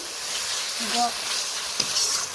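Spice paste (masala) sizzling as it fries in oil while cauliflower and fish curry is cooked, a steady soft hiss close by with faint stirring, and no voices.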